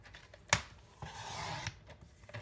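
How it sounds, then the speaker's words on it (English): Paper being cut to size for the inside of a handmade card: a sharp click from a trimmer blade, then a steady close scraping slide for about half a second, ending in a soft knock, with no voices. "Then I turn that piece and cut it at 4 inches"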